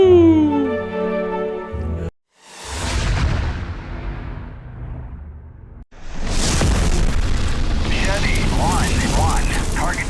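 A destroyed target explodes in the DCS World combat flight game with a loud, rumbling boom after a short silence, a long low roar that decays and then swells again into a second heavy blast with crackling debris.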